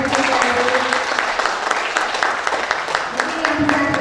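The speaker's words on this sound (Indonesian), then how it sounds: "Boleh tepuk tangan buat Mbak Adi Sudradi" An audience at a kethoprak traditional theatre session in Jogja applauds, a continuous dense patter of many hands, moderately loud, with faint voices mixed in.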